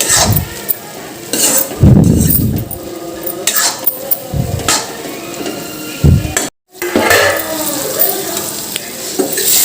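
Tomatoes, with potatoes in the pan, fry and are stirred, bursts of metal spoon scraping and clanking against the pan over a continuous close sizzle, with one brief dropout.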